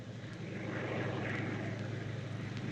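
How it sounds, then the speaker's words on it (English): A scouting plane passes overhead, a steady propeller-engine drone that swells slightly toward the middle and holds at a moderate, fairly distant level with no other sounds on top. "Scouting plane."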